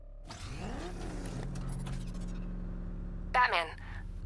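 The Batmobile's engine in Batman: Arkham Knight on PS5 revs up with a rising whine, then settles into a steady, loud mechanical drone, with a brief voice cutting in near the end.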